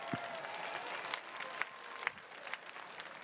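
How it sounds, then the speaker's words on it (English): Crowd at an outdoor football practice event applauding school and youth football teams, a soft continuous wash of clapping with a few sharper individual claps standing out, heard from a distance. "Give them a round of applause."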